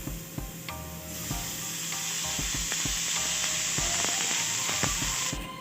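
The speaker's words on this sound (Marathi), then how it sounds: "हे आपल्याला भाजून घेते कांदा भाजण्यासाठी आपल्याला थोडस तेल टाकायचं आहे" Three large onions sizzle in a little oil for kaleji fry, a steady close frying hiss punctuated by light clicks and knocks of stirring.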